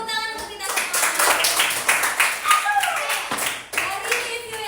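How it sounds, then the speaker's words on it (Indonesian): A school class claps hands together during a lesson, a close burst of uneven individual claps mixed with children's voices and chatter over the top. "Oke, tepuk tangan untuk kita semua."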